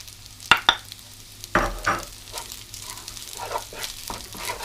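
Chili powder and turmeric go into egg fried rice frying in a pan, with a few sharp scrapes and knocks from the stirring over a low steady sizzle. Nobody speaks.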